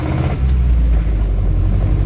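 A Ford Model A engine fitted with a Holley 94 carburetor runs steadily, a low, even, close-up rumble with no voices over it.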